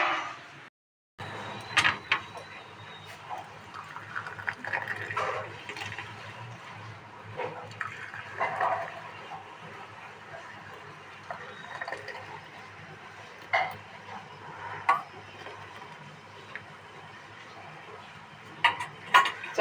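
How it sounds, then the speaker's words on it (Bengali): Tea strained and poured into three cups in a home kitchen, soft liquid trickling with clinks of the strainer and cups against the pan. "চা ছাঁকা হয়ে গেছে, 3 কাপ ছেঁকেছি।"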